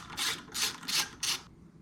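A screw being tightened into a Harley-Davidson Softail gearbox transmission top cover with rubber pieces on the studs, heard as four close, rasping turns of a tool in a steady rhythm, then a brief quiet.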